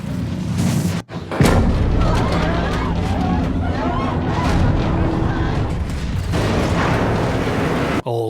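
A heavy cinematic thud hits early, then scraping, grinding foley of a subway train door being forced continues over a loud, dense bed of crowd murmur and shouting in a Korean film scene from Omniscient Reader.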